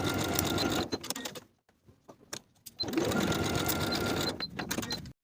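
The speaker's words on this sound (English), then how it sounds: "Sew each shoulder seam at 3/8 of an inch and press the seams open." A sewing machine stitches the shoulder seams of a women's wool jacket, running in two loud steady bursts separated by a short pause with a few faint clicks, close up and without talk.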